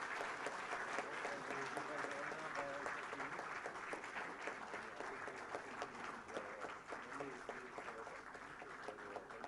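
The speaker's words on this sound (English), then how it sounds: "May we have a round of applause for Professor Robert Fry Engle." Sustained audience applause fills a university award ceremony hall, a dense steady wash of clapping that runs without pause and stays fairly loud and close throughout.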